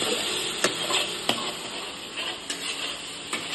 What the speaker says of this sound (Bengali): আলুগুলো ভাজা ভাজা হয়ে গেছে তেল ছেড়ে দিয়েছে